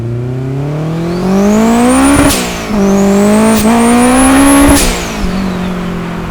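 Turbocharged Honda Civic with a bonnet-exit wastegate accelerating hard nearby, its loud engine climbing through the revs in two long pulls, broken by sharp gear-change bursts and a whooshing turbo release.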